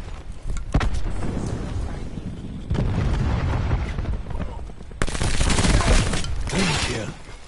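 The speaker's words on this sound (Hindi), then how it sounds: "cluster grenade" Cluster grenade blasts in Call of Duty Black Ops 4 gameplay: dense rumbling booms and crackling gunfire layered throughout, with a fresh burst of explosions partway in, loud and continuous.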